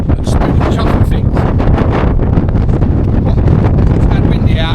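Strong wind buffets a sailing boat at sea, roaring and gusting loudly into the microphone without a break, with flapping and rushing noise throughout.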